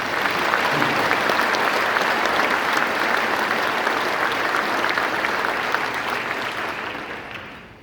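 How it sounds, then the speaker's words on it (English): An audience at an Army conference keynote in Huntsville, Alabama gives the Army Under Secretary a big round of applause, loud, dense and continuous clapping that holds steady before fading in the last couple of seconds. "Give Secretary Camarillo a big round of applause"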